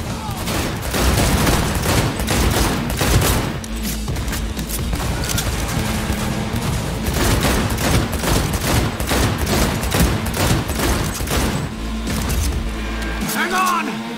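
A smart weapon in Cyberpunk 2077 fires in dense, rapid bursts of gunfire that continue nearly nonstop, loud and close, mixed with shouted voices and combat noise.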